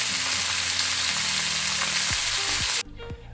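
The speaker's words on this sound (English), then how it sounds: "You can hear that beautiful sizzle." Burger patties sizzle loudly in a hot cast iron pan, a dense, steady frying hiss that cuts off abruptly near the end, leaving a faint low hum.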